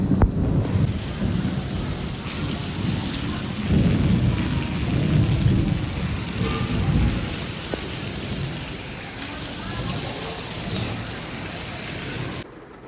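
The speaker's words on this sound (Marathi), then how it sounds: "बघ पाऊस कसा पडतोय." Heavy monsoon rain pours down steadily with a dense, close roar, while low rolling thunder swells and fades beneath it throughout.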